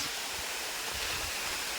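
A Konkan waterfall gives a brief, steady broadband rush of falling water, even and moderately loud, with no voices.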